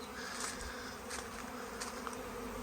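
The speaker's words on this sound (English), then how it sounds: "this absolutely loud roar of swarm of bees have turned up" A dense, continuous buzzing of many honeybees, loud and steady like a swarm close around, with individual bees droning past.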